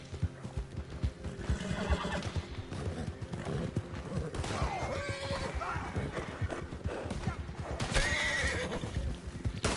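A horse whinnies repeatedly over galloping hooves and a dense, busy Red Dead Redemption 2 Online soundscape with distant gunfire-like bursts.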